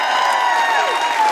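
A live podcast comedy audience applauds and cheers for a band, a dense, loud wash of clapping with whoops running steadily throughout.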